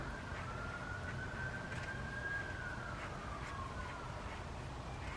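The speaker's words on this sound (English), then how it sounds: "Lots of sirens rolling around right now." A distant emergency vehicle siren rises and falls faintly through the air, one long wavering wail against steady outdoor background noise.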